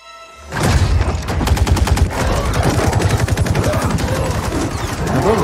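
Rapid machine gun fire in the Mortal Kombat 11 story mode: a loud, sustained automatic burst of evenly spaced shots that rattles on for several seconds after a brief quiet start.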